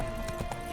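Horse hooves clip-clop at a steady walking rhythm in The Witcher 3: Hearts of Stone, moderately close over a constant game ambience and tonal hum.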